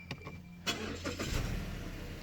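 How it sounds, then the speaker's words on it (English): A Mazda 6 engine cranks briefly with a few starter clicks, then catches and settles into a steady low rumble. "So what you have to do is start the car first"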